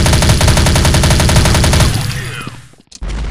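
A light machine gun in the video game Global Strike fires a rapid, loud, close burst of evenly spaced shots for nearly two seconds, then cuts off into a fading echo before another sharp sound.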